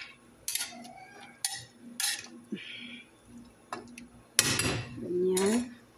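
A spoon scrapes and clinks against a pot while maqluba is stirred with seasoning, making scattered metallic taps that end in a louder stretch of clattering, with soft voices in the background.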